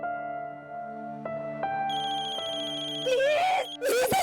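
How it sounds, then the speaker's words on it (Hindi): A telephone ringtone plays as a rising electronic melody, growing louder and busier near the end, close and clear with no talk over it. "प्लीज प्लीज इस फोन को कोई बंद करो।"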